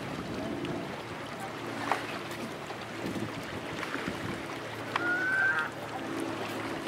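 Ducks and geese at Lake Arlington, heard as faint honks and calls at a distance over steady outdoor background noise, with one clearer drawn-out call near the end.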